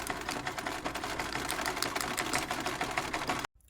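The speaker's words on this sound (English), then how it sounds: "we are going to sew right along this edge at 1/4 inch" A sewing machine runs a quarter-inch seam along the edge of fabric for a Halloween tote bag with a fast, even stitching rattle, then stops abruptly.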